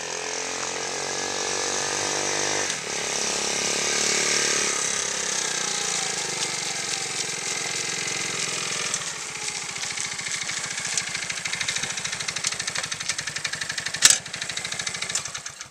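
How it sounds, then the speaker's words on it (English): A restored 1970 Honda CT70 motorcycle engine fires up and settles into a loud, close, rapid putter at idle, with a sharp clack near the end. "As you can see, the bike fires right up."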